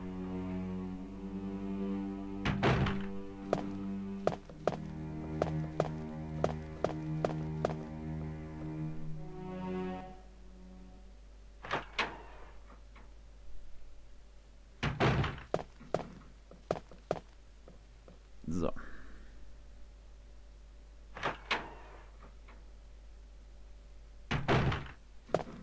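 In Resident Evil 1, a door opens amid game sounds, with heavy thunks and slams scattered through a long, fairly quiet stretch of low ambience and fading tones.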